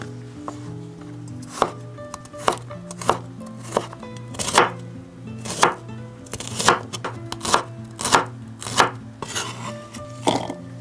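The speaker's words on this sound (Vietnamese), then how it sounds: "Cắt hành tỏi." A knife chops onion and garlic on a board in a home kitchen, a series of sharp, close, irregular taps with short pauses between them, and no voices.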